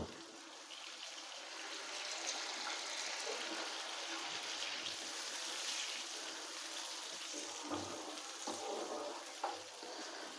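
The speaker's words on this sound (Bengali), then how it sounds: "এবারে আমি এর মধ্যে দিয়ে দিচ্ছি হাফ কাপ জল।" Half a cup of water goes into a hot pan of well-fried spice paste for a pabda fish curry, giving a steady hiss and sizzle with soft bubbling and a few stirring clicks, close and even throughout.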